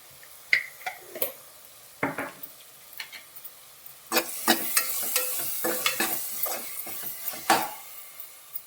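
Masala for tomato rice fries in a pan, stirred with repeated scraping strokes of a utensil over a soft steady sizzle; the scrapes come in irregular bursts, busier in the second half, with no talking.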